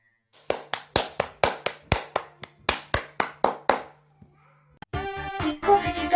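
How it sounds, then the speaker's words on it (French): Steady rhythmic clapping welcomes a guest on a French-language show, about a dozen sharp, evenly spaced claps, then a pause before bright music kicks in. "Faites-lui de chaleureux applaudissements"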